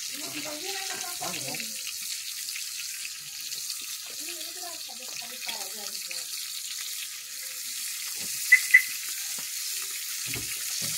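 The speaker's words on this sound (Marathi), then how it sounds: "मम्मी पोटाची साईड पण फ्राय करा." Fish fries on a griddle at a village home with a constant soft sizzle, while people talk over it in short bursts and two brief sharp ticks sound near the end.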